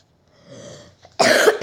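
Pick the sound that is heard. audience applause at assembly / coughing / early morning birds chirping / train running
coughing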